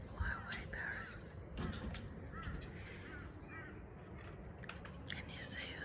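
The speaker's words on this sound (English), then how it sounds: "Cockatoos are there." Cockatoos squawk in a backyard, a series of harsh raspy calls scattered through steady outdoor background noise, somewhat distant and fairly faint, with soft voices nearby.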